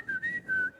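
A person imitates the eerie whistle of a trooper who took small steps while whistling, producing a short wavering whistled tune in three held notes, fairly close and clear, with no talking.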